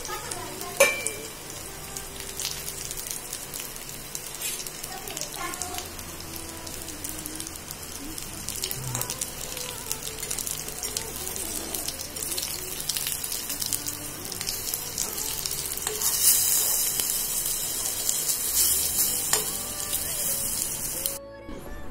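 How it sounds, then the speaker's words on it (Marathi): Roll vadi frying in hot oil, a steady broadband sizzle that holds for the whole stretch and swells louder near the end, with occasional stirring clinks and no voices. "सगळं आपण फ्राय करून घेणार आहोत वड्या"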